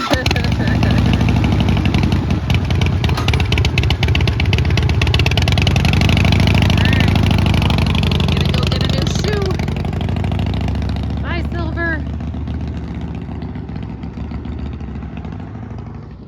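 An old Harley-Davidson motorcycle engine with 106,000 miles on it, a loud steady mid-pitched running rumble close by that slowly fades over the second half, without speech.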